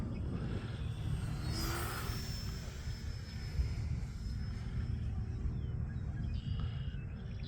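An FMS Zero 800mm RC plane flies at full throttle, its electric motor giving a steady, loud whine that holds through the stretch as the plane passes, with a brief shifting whistle early on.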